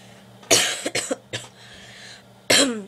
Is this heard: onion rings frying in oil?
no